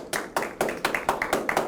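An audience at a talk claps together in a steady, even rhythm, about eight crisp beats in quick succession, fairly close and moderately loud.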